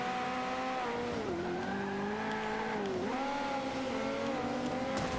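A Porsche drifts in the racing game Forza 5, its engine note rising and dipping with revs as tires squeal through the slide, loud and steady with no voices.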